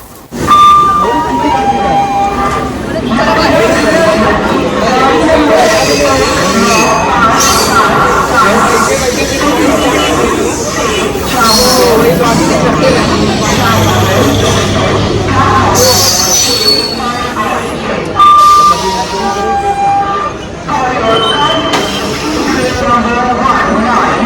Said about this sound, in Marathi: आता ट्रेन आलेली आहे